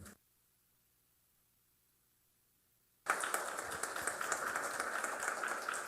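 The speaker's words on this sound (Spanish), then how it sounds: "a quienes recibimos con un fuerte aplauso." After roughly three seconds of near silence, a room of attendees at an academic panel on judicial elections bursts into applause to welcome the panelists, and the dense clapping carries on at an even level.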